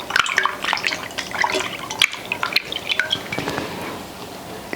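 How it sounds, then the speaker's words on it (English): Water pours and splashes over hands during a hand wash after a meal of okro soup and fufu, a close patter of drips and trickles with small clinks and no talking. "as usual, use water to wash my hand."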